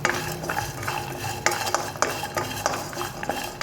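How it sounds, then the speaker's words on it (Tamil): Cashew nuts roast lightly in a hot pan with the stove turned off, a spoon scraping and stirring them in repeated clattering strokes over a faint sizzle, close and fairly loud, with no voices. "சும்மா சூட்டில் லேசாக வறுத்தா கூட போதும்."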